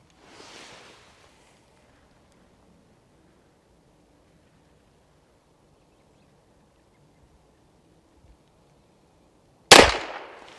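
Single pistol shot from a Tisas 2011 Carry DS with a Holosun 507K sight, fired at seven yards, a sudden loud crack near the end after near silence, trailing off briefly.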